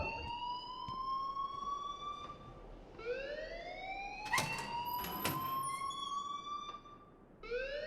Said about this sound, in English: turn off that alarm since that's your job